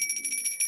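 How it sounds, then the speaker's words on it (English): A small bell rings with a bright, sustained metallic tone, pulsing rapidly through a brief burst of quick repeated strikes. "I'm going to ring the bell on that."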